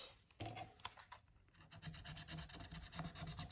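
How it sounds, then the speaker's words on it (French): A coin scrapes across a scratch card in quick, dry, rhythmic rubbing strokes, close and quiet, with no talk over it. "je vais gratter la carte de soleil"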